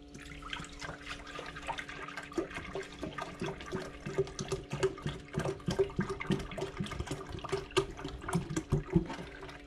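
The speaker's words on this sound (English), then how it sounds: "So what I do is I pour this inside the crock pot." A half gallon of milk pours from a jug into a crock pot, a steady gurgling, splashing stream that continues throughout at close range.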